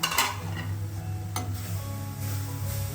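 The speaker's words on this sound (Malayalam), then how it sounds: "ഇതൊന്ന് നന്നായി ഇളക്കി കൊടുക്കാം." A spoon stirs pumpkin leaf thoran in a hot pan with a soft sizzle underneath, and scraping strokes and a sharp clink of metal on the pan stand out clearly.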